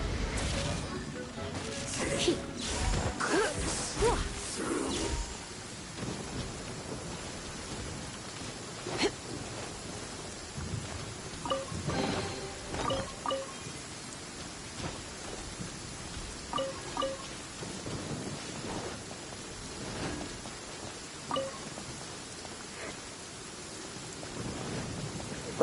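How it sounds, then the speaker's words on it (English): Rain and rolling thunder in the video game Genshin Impact, a steady wash of rainfall with a few low rumbles and scattered crackles, moderately loud early on and then settling into quieter patter under occasional talk. "Bad news for that guy, it started raining."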